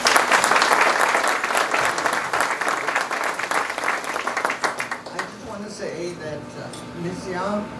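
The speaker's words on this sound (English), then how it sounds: "Give a big round of applause for Ms. Tijerina." An audience at a school dedication ceremony breaks into loud, dense applause that tapers off after about five seconds, then a voice speaks over the quieter room.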